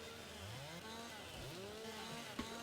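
A chainsaw cutting logs in the video game Farming Simulator 22 whines and revs, its pitch rising and falling through the cut, fairly quiet and steady with a brief knock near the end.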